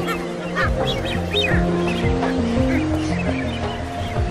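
Masked boobies call at a nesting colony, overlapping honking and whistling cries from many birds over a steady wash of surf, continuous and fairly loud.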